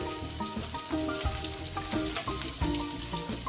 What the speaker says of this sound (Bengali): রসুন হালকা লাল লাল ভাজা হয়ে গেছে।